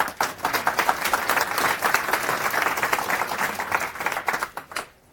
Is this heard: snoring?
no